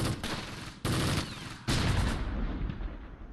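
Heavy battlefield gunfire from the Close Combat World War II wargame near Gavrus, 1944: three loud bursts of overlapping rifle and machine-gun shots, each starting abruptly, then a rolling volley that slowly fades.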